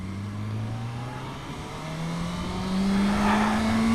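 A vehicle engine roars under acceleration, its note climbing steadily and growing louder toward the end, with no talk over it.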